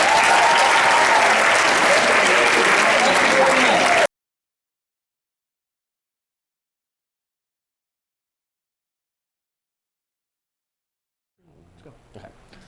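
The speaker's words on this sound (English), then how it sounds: "let's give her a round of applause" An audience applauds a guest speaker in a loud burst of clapping lasting about four seconds, cut off abruptly, followed by long silence and then a little faint sound near the end.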